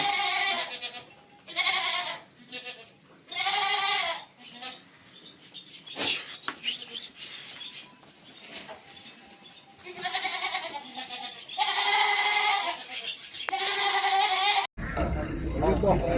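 Goats bleat again and again at a sheep and goat livestock market in Maştağa, loud nasal cries arriving in repeated bursts with short gaps, close by, while someone talks between them.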